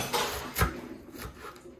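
Knife chopping through cabbage on a board for Haitian pikliz, a few close, separate thuds spaced irregularly, fairly quiet, with no talk.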